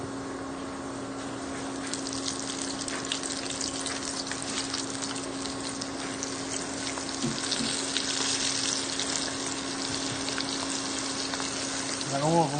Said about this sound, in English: Then we're going to fry them.